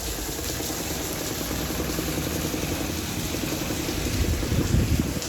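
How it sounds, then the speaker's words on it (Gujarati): Heavy rain pours down in a steady, dense hiss that stays loud and even throughout, with a slight swell near the end. "જોરદાર વરસાદ ચાલુ થઈ ગયો છે."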